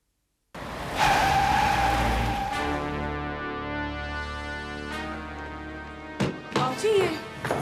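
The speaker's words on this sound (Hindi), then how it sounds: "ये किसी गाड़ी के रुकने की आवाज थी ना?" A vehicle, an ambulance told to stop, brakes hard and skids, with a loud, sustained tire screech and engine rumble. It fades as the car halts, and then a few brief sharper noises follow close by.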